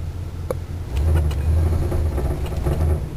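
A car engine runs under load with a steady low rumble that swells slightly as it is pushed harder. A faint click is heard near the start, and nobody speaks.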